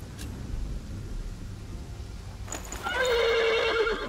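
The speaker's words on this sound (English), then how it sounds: "The horse nearly woke the guard." A horse whinnies loudly and close by near the end, after a few seconds of low rumbling background noise.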